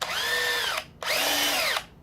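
Two loud bursts of a Bosch RHH181 (GBH 18 V-EC) brushless cordless rotary hammer drill whirring at speed in drilling mode, each under a second, separated by a short pause.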